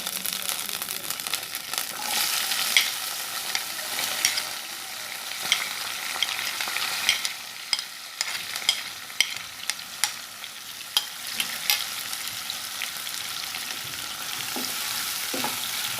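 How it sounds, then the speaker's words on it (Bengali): Chopped onion frying in a pan makes a continuous crackling sizzle, close and fairly loud, punctuated by scattered clicks and scrapes of a spoon stirring, with no voices. "পেঁয়াজ কুচিটা একটু হালকা ভেজে নেব।"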